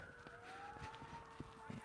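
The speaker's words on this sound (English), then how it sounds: "There are a lot of emergency vehicles going somewhere. Like those sirens have not stopped." Emergency vehicle sirens wailing at a distance, a faint rising and falling tone that continues steadily under background noise.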